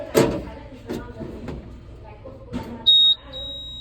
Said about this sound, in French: Bon, le panneau commence à biper.